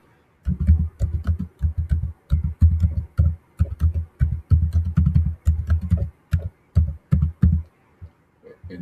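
Steady typing on a computer keyboard, close and distinct, with quick key clicks in short bursts and brief pauses between words, tapering off near the end.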